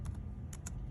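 Quick keystrokes on a Chromebook keyboard during a classroom lesson, with four light, crisp taps close by over a low steady hum.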